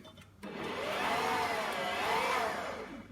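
Electric mixer mixing cake batter for a Torta de Santiago: a loud, steady motorized whir starting abruptly and holding with slight wavering pitch for a few seconds, close, with no talking.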